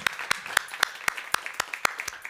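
Regular, distinct claps from a small audience at a film screening talk, spaced about four per second, fairly faint against a quiet background.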